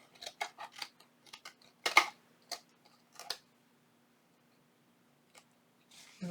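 Scissors snip through a junk journal belly band tag in a run of short, crisp cuts, a few sharp close snips clustered early, then sparse clicks and a faint rustle near the end.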